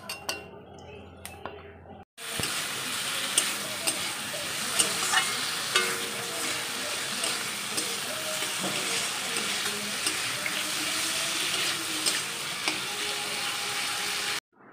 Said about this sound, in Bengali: মাছের ডিমগুলো ভাজা হয়ে গেল